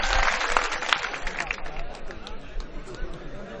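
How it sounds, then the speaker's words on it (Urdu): Audience at a mushaira poetry gathering in Kannauj, a short burst of scattered clapping and crowd murmur that fades quickly. "ایک بار زوردار تالی بجائیں آپ ندیم صاحب"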